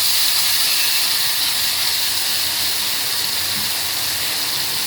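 Spice paste sizzles loudly in hot oil tempered with five-spice (panch phoron), a steady bright hiss holding throughout with no voices.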